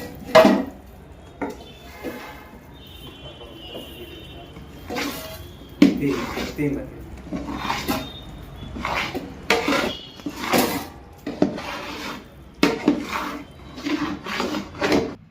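Sugar syrup is worked into roasted flour in a pan for mohanthal, with a spoon scraping and rubbing against the metal in irregular, close-up strokes, alone without talk.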